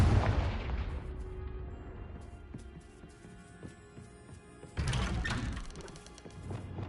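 Confringo blasting curses detonate in Hogwarts Legacy. A heavy blast hits at the start and fades into rumbling debris, and a second strong burst follows a few seconds later.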